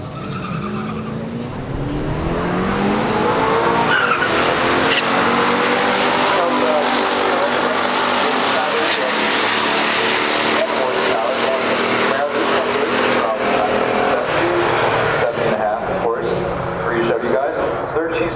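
A 1970 Chevrolet Camaro Z28 and a 1972 Pontiac GTO in a pure stock drag race: loud engines roar and rise through the gears together after a brief launch, with tire noise, sustained for most of the run before easing off.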